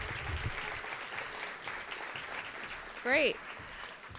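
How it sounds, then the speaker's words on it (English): An audience at a Women's History Month event claps in a steady, soft wash of applause, with a brief spoken word over it near the end. "Let's give them another round of applause"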